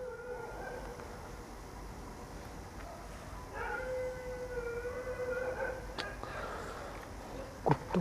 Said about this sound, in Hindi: कुत्तों की आवाज़ ने बड़ा परेशान किया हुआ है यार।